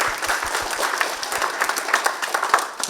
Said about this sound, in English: Let's clap for the student.